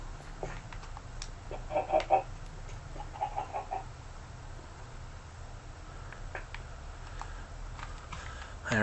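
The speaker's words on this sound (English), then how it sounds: "And I reckon that was a chicken laying an egg I just heard." A chicken in the video game Minecraft clucks faintly as it lays an egg, a few short, quiet bursts near the start against a low background.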